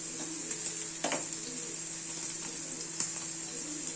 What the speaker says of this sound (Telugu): పన్నీర్ కూడా వేగిపోతుంది.